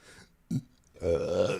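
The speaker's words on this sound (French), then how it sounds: "Ça fait 2-3 jours que je rote." A short burp followed by a longer, louder, drawn-out belch, close and alone with no talk.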